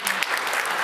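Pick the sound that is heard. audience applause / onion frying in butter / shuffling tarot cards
audience applause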